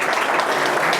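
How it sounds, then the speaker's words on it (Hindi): An audience at a grand seminar applauds, with dense continuous clapping from many hands, steady and fairly loud throughout, with no speech over it. "उससे पहले एक बार स्पेशल ताली उनके लिए हो।"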